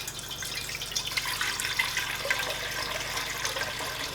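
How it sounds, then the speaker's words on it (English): Boiling water poured into a vessel to brew kombucha tea, a steady hissing, splashing stream that runs for several seconds without a break. "So you add boiling water"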